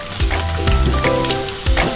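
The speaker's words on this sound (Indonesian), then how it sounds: "Kita goreng kentangnya sambil sesekali kita aduk ya, supaya matangnya merata." Potato pieces frying in hot oil in a home kitchen, a steady crackling sizzle with occasional stirring bursts, close and moderately loud with no talking.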